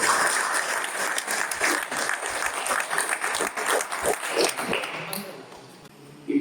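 Audience applause at an award felicitation ceremony, dense and sustained clapping that fades out toward the end.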